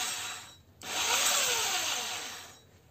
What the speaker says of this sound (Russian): Включаем нашу дрельку на маленьких оборотиках